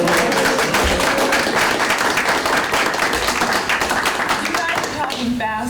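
Audience applause at a grassroots climate-action gathering, a dense, loud wash of clapping that fills the whole stretch, with voices and cheering mixed into the crowd noise.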